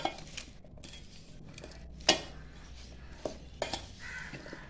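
A spoon clinks and scrapes against a bowl as a thick raw mango pickle mixture is stirred, with a few sharper taps among softer scraping.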